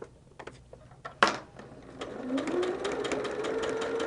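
A sewing machine starts up after a few clicks and handling noises, then runs steadily and close by, stitching holiday quilt pieces with a rising whirring hum.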